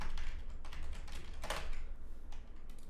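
Computer keyboard typing while scripting code, a quick run of crisp close key clicks in irregular bursts with one sharper keystroke midway, no talking.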